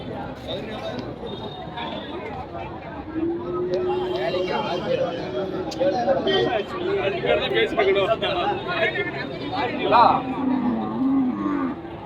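Cattle moo at a busy livestock market, drawn-out lowing calls rising over a steady crowd murmur while people talk nearby.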